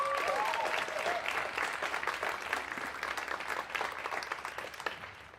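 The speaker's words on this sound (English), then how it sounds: "Another round of applause for the Percussion Ensemble" A concert audience applauds a percussion ensemble in a hall, a soft, broad wash of clapping that holds steady and then thins out toward the end, with a faint voice briefly heard at the start.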